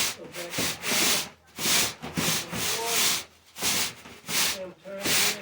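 A drill spins a cleaning brush inside a dryer vent hose, giving loud rhythmic bursts of scraping and rubbing as it works back and forth, with a voice briefly in between.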